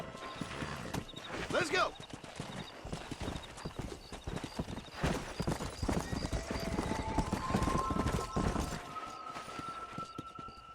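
Horse hooves clip-clop at a gallop in the Red Dead Redemption video game, a whinny rising early on, steady rhythmic hoofbeats running throughout with a brief shout and music-like tones over them.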